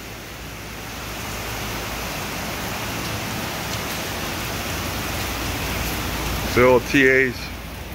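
Typical Florida rain falls steadily in a dense, even hiss, close and continuous. A brief voice comes in near the end.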